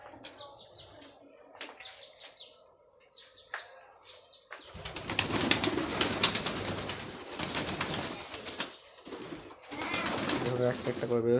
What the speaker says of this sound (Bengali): একটা একটা করে বেরোচ্ছে সব পায়রাই।